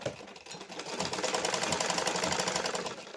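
A sewing machine runs steadily, stitching a piping strip onto blouse fabric, a fast, even mechanical whirring that starts softly and builds to a constant close drone.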